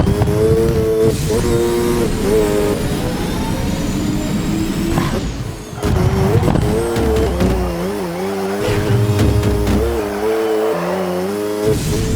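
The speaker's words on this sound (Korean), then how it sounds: "엑셀을 눌렀을 때는 배기음 소리가 나고" Engine and exhaust of a racing car in Need for Speed Edge, revving and rising and falling in pitch, with brief tire squeal and shifting throttle.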